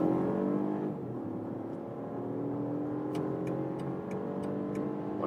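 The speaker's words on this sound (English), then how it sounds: "and then we can accelerate from 50 kilometers an hour to," BMW 30e M-Sport SUV accelerating hard in sport shift mode from 50 km/h, heard from inside the cabin as a steady, loud drone of rising engine and road noise, with a few faint ticking sounds near the end.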